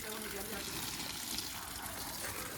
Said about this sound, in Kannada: ಗಿಡಗಳಿಗೆ ನೀರು ಕೊಡ್ತಾ ಇದ್ದೇನೆ ಗೈಸ್.